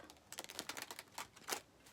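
A deck of tarot cards being shuffled by hand, a quiet run of close, crisp riffling flicks and soft taps in quick irregular bursts, with no talk.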